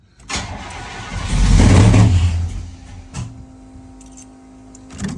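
A 1985 Chevy C10 on Aces Killshot Fusion EFI cranks and catches with a loud rising roar, then settles into a rough, uneven idle that surges again near the end; no voices.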